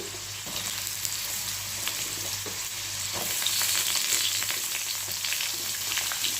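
Vegetables fry in oil in a pan as pointed gourd goes in with papaya: a steady, moderate close sizzle broken by scattered crackles and stirring clicks, without any talking.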